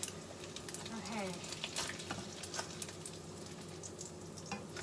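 An egg fries in a pan, giving a steady soft sizzle and crackle close by, with light scraping and a faint voice now and then over it.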